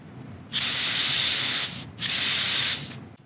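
Two sustained bursts of PB Blaster aerosol penetrating oil spraying from a can into a Keihin carburetor body, each about a second long, close and loud with a short pause between.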